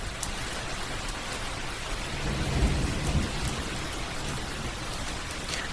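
Steady heavy rain pours down with a low rolling thunder swell in the middle, a dense, even wash of drops heard alone, soft and immersive.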